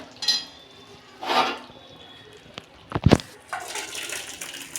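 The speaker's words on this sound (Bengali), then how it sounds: "ডাল হয়ে গেছে, আমি ঢেলে ফেলছি।" Cooked chana dal is poured out of a pot, making a few wet, sloshing bursts with a brief clatter of cookware in between, at moderate volume and without voices.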